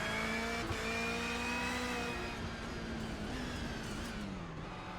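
Onboard rallycross race car number 369 at Iowa Speedway, its engine droning hard and close, holding pitch as it revs, dipping through a gear change and easing off near the end.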